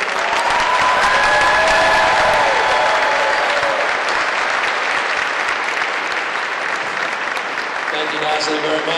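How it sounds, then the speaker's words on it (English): At a Norooz celebration, an audience breaks into loud applause and some cheering to welcome San Francisco's mayor, a thick sustained roar of clapping with faint voices and a brief tonal sound early, tapering slightly near the end. "And a big round of applause to Nasli for organizing this the second year"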